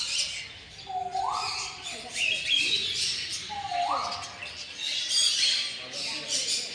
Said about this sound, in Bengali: দেখো এটা ককটেল।